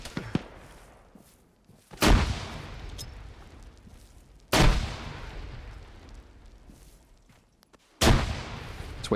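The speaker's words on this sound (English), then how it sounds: "Yeah, we're getting pushed by the whole team. I'm throwing frags forward." Frag grenades explode in the Arma military video game, three loud booming blasts several seconds apart, each trailing into a long rumbling decay, with no voices over them.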